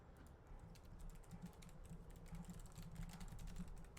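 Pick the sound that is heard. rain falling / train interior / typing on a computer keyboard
typing on a computer keyboard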